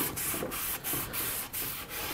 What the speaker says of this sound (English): Today I'm using card cleaner with a nice clean rag.